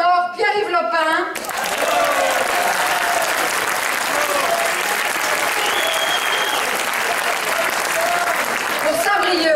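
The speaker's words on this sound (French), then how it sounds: "Et vous pouvez applaudir enfin les 2 candidats des Côtes-d'Armor, Pierre-Yves Lopin" Audience at a French political meeting in the Côtes-d'Armor applauds the candidates, dense sustained clapping that starts abruptly after a brief spoken introduction and carries loudly to the end.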